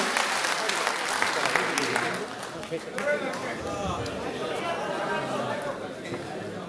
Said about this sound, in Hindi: भाई हार्दिक पटेल जी का ताली बजाकर स्वागत करेंगे